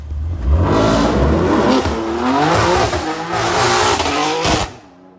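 A BMW M3 G80 rumbles close by with a loud, throaty exhaust, revving and burbling for several seconds before the sound cuts away.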